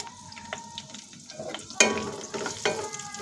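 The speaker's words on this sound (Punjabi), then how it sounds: "ਆਪਾਂ ਇਹ ਪਿਆਜ਼ ਫਰਾਈ ਕਰਕੇ ਕੱਢ ਲਵਾਂਗੇ" Onions sizzle in hot oil with a soft crackling hiss, broken by a few clinks and scrapes of a utensil stirring, no one talking.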